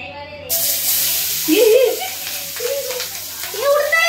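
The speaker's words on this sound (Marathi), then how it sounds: "हा गॅस स्लो केला आहे आणि आता ह्यात आपण टाकूया सर्व पालेभाज्या." Leafy vegetables hit a pan on a gas flame turned low while making pizza, bursting into a loud, steady hiss of sizzling as a voice speaks over it.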